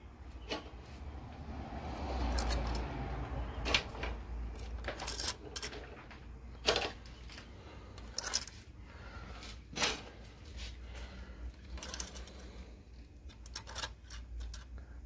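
Fresh clutch springs go into a Suzuki C109RT motorcycle's clutch, making sparse, close metallic clicks and clinks against a quiet background, with no talking.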